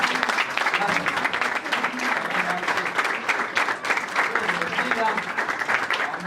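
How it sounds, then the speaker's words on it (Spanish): A church congregation at a Sunday service breaks into applause, a sustained crackle of many hands clapping close by, with voices talking and calling out over it throughout. "Un aplauso."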